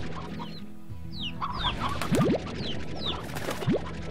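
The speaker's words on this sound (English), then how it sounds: "Stony hens, eh?" Stony hens from the video game Slime Rancher cluck and squawk in short, repeated bursts over a busy game soundscape, with several quick calls clustered near the middle and one more near the end.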